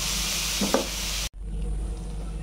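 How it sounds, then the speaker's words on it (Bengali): Burma greens (shak) sizzle steadily in a hot pan, with a brief scrape of stirring midway and a short drop in the frying hiss before it resumes; no one speaks. "আবার আমি 1 মিনিট ভাজব।"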